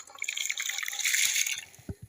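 Rice and lentils pour into warm water in a cooking pot, giving a close, bright rustling patter followed by a few soft plops and drips.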